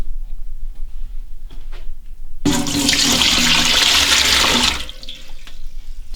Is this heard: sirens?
no